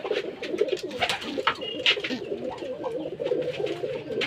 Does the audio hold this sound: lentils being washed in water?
no